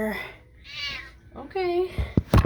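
A cat meows a few times, drawn-out and tonal, with some soft handling noise and thumps near the end.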